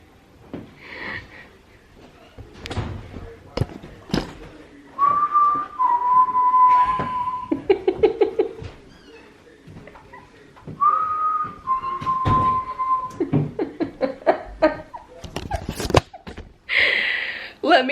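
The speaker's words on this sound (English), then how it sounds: "Let me know in the comments if you know where that whistling is from." Melodic whistling in two sustained phrases, with breathy snorts, clicks and other noises scattered around it.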